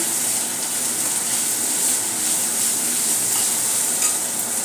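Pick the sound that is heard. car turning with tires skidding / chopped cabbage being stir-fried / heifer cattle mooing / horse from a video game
chopped cabbage being stir-fried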